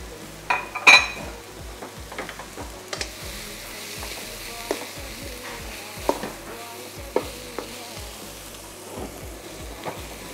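Mushrooms frying in a pan for stuffed lamb shoulder, sizzling steadily while a utensil scrapes and stirs them with scattered clinks against the pan, close up and without talk.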